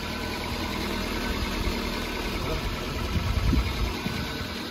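A car engine runs steadily at idle in a mall basement parking area, producing a continuous low rumble with slight vibration that swells a little toward the end, while people talk over it.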